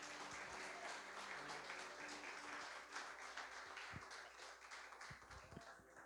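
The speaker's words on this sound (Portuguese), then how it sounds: "Dê uma salva de palmas ao Senhor" A church congregation applauds the Lord during a service, a dense wash of many hands clapping at once, steady and fairly faint, tapering slightly toward the end, with no voices over it.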